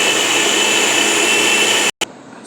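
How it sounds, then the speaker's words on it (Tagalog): A kitchen blender whirs steadily at high speed while chopping onions, a loud continuous motor drone that cuts off abruptly, pulses briefly and then continues at a lower level. "So, ito na po yung na-blend nating sibuyas."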